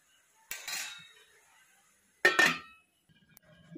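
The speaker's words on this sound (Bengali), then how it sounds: "এবার ঢাকনা দিয়ে দেব।" Metal lid set onto a cooking pan: two distinct clanks about two seconds apart, each with a short ringing tail, close and clear in a quiet kitchen, with faint rustling after.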